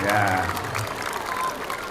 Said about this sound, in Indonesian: Tepuk tangan dulu Ustaz Maskur